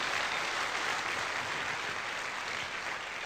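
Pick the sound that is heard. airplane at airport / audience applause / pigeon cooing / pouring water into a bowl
audience applause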